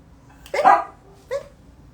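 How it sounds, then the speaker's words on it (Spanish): A dog barks twice, one fuller bark followed by a shorter one, close and clear against a quiet room. "Pero dejen que Blue deje de ladrar porque si no nos va a distraer."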